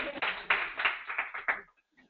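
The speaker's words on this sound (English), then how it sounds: "Everybody give her a round of applause." A small group gives a brief, muffled round of applause, heard as a handful of distinct clapping bursts over about a second and a half before it trails off into silence.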